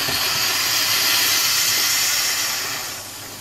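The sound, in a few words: steam hissing out of a pressure cooker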